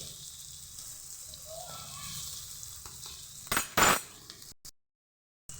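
Cooked rice for paneer fried rice stirred in a hot pan: a soft, steady sizzle with gentle scraping, then a couple of louder clinks and scrapes of the spoon against the pan before the sound cuts out.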